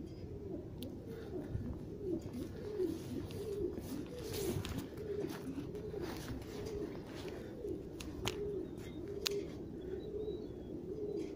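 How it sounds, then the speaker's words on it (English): Pigeons coo steadily while roosting in a sheltered spot beneath a structure, their low rolling calls overlapping continuously through the whole stretch, with a few faint higher chirps scattered above. "It's like pigeons roosting under here or something."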